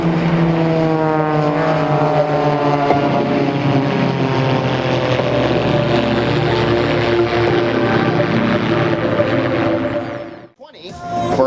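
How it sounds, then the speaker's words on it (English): An aerobatic propeller aircraft in a flat inverted spin at an airshow, its loud, steady, droning engine roaring continuously before cutting off sharply near the end, with a voice talking over it. "as Todd Farrell gets dizzy in the flat inverted spin as Greg Hume Powell experiences upwards of 5"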